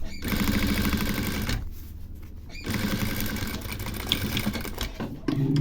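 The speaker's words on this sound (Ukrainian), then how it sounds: "деталі листочки також настрочую на деталь кишені" A sewing machine runs in steady bursts, stitching pocket lining pieces onto a pocket panel of a reversible quilted jacket, with a short pause in the middle before the close, rapid stitching resumes.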